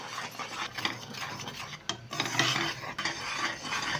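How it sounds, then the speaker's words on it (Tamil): Coconut, gram flour and milk powder are stirred quickly for burfi, a continuous rough scraping of spoon against pan with faint sizzling, close and busy throughout. "தேங்காய், கடலை மாவு, பால் பவுட்ரு, இதுகெல்லாம் கொஞ்சம் கொஞ்சமாக போட்டு நல்லா கிளறி"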